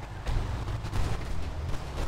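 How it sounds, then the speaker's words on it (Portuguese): Gunfire exchange between police and suspects on a Brazilian street during a police operation, rendered as a rough, continuous crackle of distant shots and commotion with a noisy low rumble throughout. "troca de tiro, a polícia ali"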